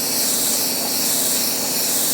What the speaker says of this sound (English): I'm not going to go crazy spraying it, you know, on the first coat